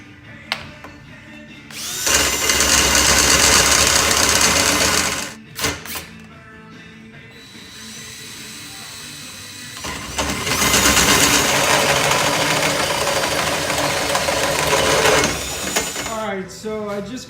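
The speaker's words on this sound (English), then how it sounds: "I'll show you the notching right now" A powered tube notcher cuts a notch in roll cage tubing for a Mustang drift car, with two loud, sustained grinding bursts of several seconds each, split by brief pauses and quieter handling noise.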